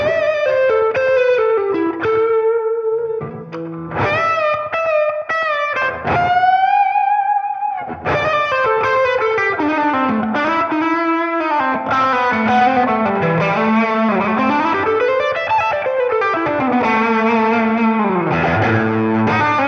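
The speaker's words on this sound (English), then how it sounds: "the Overdrive sounds are really, really good, and they sound very convincing for being digital" Electric guitar played through an IK Multimedia TONEX overdrive pedal, with a driven, slightly distorted tone picking melodic lines and sustained chords, close and loud with no voices.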